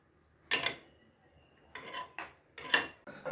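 Metal pot lid clattering onto a pot of Maggi noodles on the stove, a few sharp close clanks and scrapes spaced over a few seconds, with no talk.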